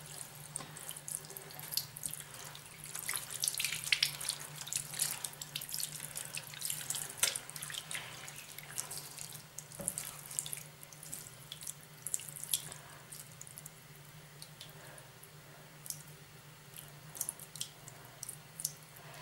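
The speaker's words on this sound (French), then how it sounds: "Et on va rincer." Tap water runs steadily into a sink while a fresh tattoo is rinsed, a continuous quiet splashing stream with small irregular drips and squishy spatters, heard close up with no talking.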